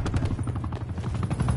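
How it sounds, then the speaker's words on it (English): Enemy attack helicopter passing overhead in a console shooter game, a loud pulsing rotor thump with a rapid rhythmic beat and crackling gunfire-like bursts mixed in. "Enemy attack chopper above."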